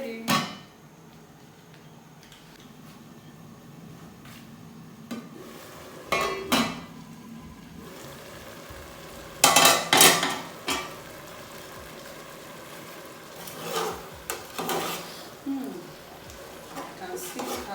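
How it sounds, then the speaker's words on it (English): A vegetable soup with little water simmers and sizzles in a pot on a home kitchen stove, a low steady hiss broken by clinks and scrapes of utensils and cookware, close by. "You can see how nice the soup is sizzling, and there is no much water in it."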